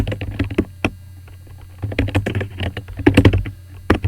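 Fingers type C++ code on a computer keyboard in close, quick bursts of clicking keystrokes, separated by short pauses, with no talking.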